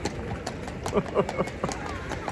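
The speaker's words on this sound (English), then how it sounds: "look at the horses" Horses' hooves clip-clop on a freezing street in Poland at about minus two degrees, a steady run of hoofbeats nearby while a person talks over them.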